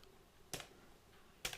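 Two sharp, isolated keystrokes on a computer keyboard, about a second apart, sound faint and close in an otherwise quiet room.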